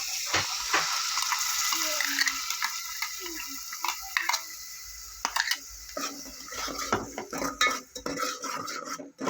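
Spinach being cooked in a pan for palak khichdi: soft sizzling with repeated clinks and scrapes of a spoon against the pan, busier stirring toward the end.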